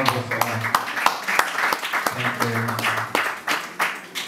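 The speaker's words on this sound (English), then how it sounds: "Let's give a round of applause." A small indoor gathering claps a round of applause for whoever supplied the cocktail food, sharp uneven claps over several seconds with voices talking and cheering underneath.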